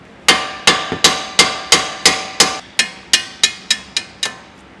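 A hammer strikes splined bolts out of a Mk5 Ford Mondeo front hub during a shock absorber replacement, giving about thirteen sharp, evenly paced metallic blows close by, each ringing briefly before the next.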